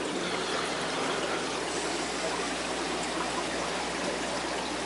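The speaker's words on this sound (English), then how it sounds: "You got circulation pump right here, and it just flows it all" An aquarium circulation pump keeps water flowing through a fish tank, producing a constant, even rush of moving water that stays steady and close.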